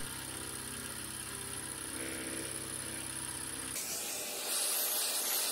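An end mill cuts the sides of a model steam engine cylinder casting, giving a steady close machining whine and motor drone that switches partway through to a harsher, brighter hiss, with no talk.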